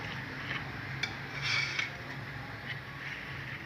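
Sugar syrup stirred into aam ka panna, a raw mango drink, with soft clinks of a spoon against a pot or glass and faint liquid movement, fairly quiet and close, with no speech.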